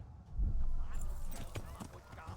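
Horse hooves canter in the video game Kingdom Come Deliverance, a quick run of clip-clop beats on the ground with someone talking over them.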